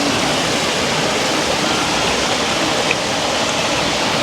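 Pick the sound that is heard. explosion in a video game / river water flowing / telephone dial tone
river water flowing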